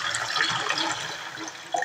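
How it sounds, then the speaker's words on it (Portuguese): Water pours into a cooking pot to make polenta (angu) for a home dinner, a steady close splashing stream filling the vessel for nearly two seconds, with no talking. "Vou colocar água."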